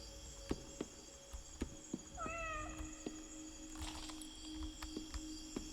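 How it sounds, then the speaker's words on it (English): Cat meowing in the video game Indigo Park, one short wavering meow partway through, quiet amid soft periodic thuds and a faint steady hum. "I heard a cat."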